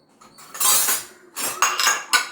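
A microwave-safe glass container is set into the rack of an LG dishwasher, giving a few close, loud clinks and knocks of glass against the rack in quick bursts, with no talking.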